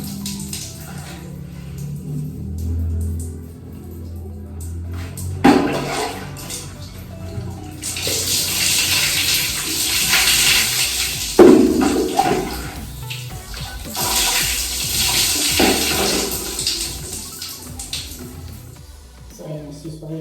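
Running water rinses hair during a home hair-coloring session, a broad steady wash that swells and splashes in bursts for about twenty seconds, with people talking intermittently over it.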